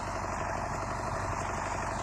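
An MTZ 80 tractor engine drones steadily under load while pulling a KPS 4.2 cultivator through deep ploughed soil, a continuous close, rumbling diesel hum with a faint whine above it.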